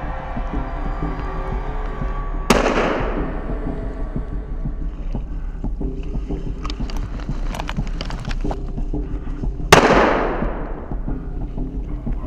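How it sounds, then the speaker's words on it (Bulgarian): Two distant rifle shots crack out during a wild boar hunt in the Rusenski Lom countryside of Bulgaria, each a sharp report with a trailing echo, several seconds apart over a steady outdoor background hum. "Страни от нас проехтяха няколко изстрела"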